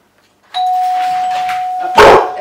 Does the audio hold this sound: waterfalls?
no